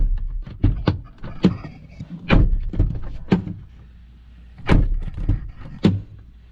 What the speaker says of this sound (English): So let's see if the door will open with the handle.